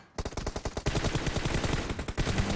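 An Uzi submachine gun fires in a video game, a dense rapid stream of close, loud shots running almost continuously after a short pause at the start.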